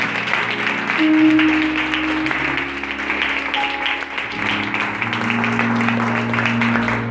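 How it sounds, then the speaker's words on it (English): A church congregation claps steadily in a dense wash of hand noise, with sustained music tones and a few voices underneath throughout. "Celebrate the Lord by the clapping of your hands"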